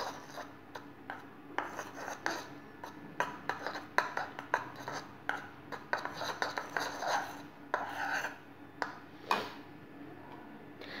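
A utensil clinks and scrapes briskly in a bowl, stirring whitening powder into a homemade skin polish. The taps come quick and uneven, close and fairly soft, with no talk over them.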